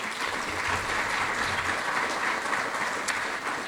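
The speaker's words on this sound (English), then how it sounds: "So I'd like to have a round of applause for this group as well." An audience at a regional conference session applauds with a steady, dense wash of clapping that holds at an even level and sounds fairly full from nearby.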